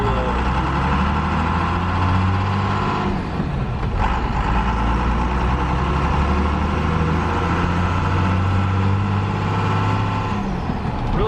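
A 4th Gen Cummins diesel pickup truck engine drones steadily and loudly from inside the cab while driving, with a low rumbling hum throughout and a brief dip in tone partway through.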